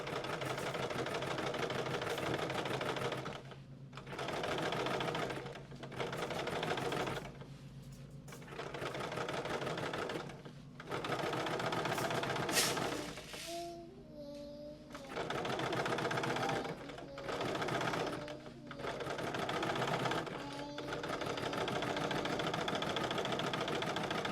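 Sewing machine back stitching rows, running in repeated loud bursts of rapid mechanical stitching separated by short pauses, close up and alone.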